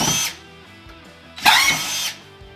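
A power drill backing screws out of a garage cabinet, two short whirring bursts close by, the second louder and longer.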